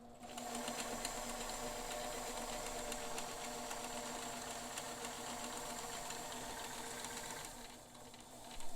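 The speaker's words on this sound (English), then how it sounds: "we'll let the machine do its zigzag dance for us and see what it can do" A Bernina 530 Record sewing machine runs steadily through a long zigzag stitch, its even mechanical whir and rapid needle ticking close and continuous, easing off slightly near the end.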